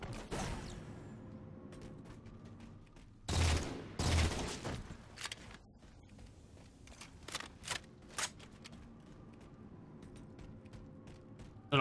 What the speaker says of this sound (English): I don't know how I didn't shoot him in the head the first burst